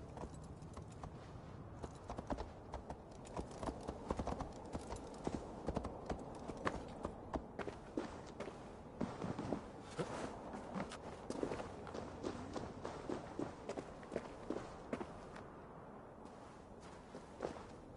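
Horse hooves clop steadily in a PS4 video game, a long run of rhythmic, fairly close hoofbeats with a quiet background bed beneath them and occasional irregular knocks mixed in.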